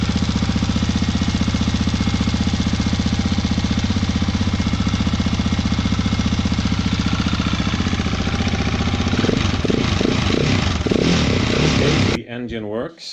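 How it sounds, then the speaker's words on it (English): A KTM 701 motorcycle engine runs at a steady, rapid, loud idle close by for about twelve seconds, with a brief rise in pitch near the end before it cuts off. "Engine works."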